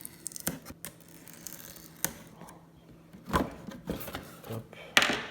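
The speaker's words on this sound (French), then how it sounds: "Donc on va couper les deux petites bandes Vanquish" Scissors snipping through the two small Vanquish plastic bands on a Vanquish Ultra VS4 10 package, close crisp cuts and rustling handling noises in irregular bursts, without speech.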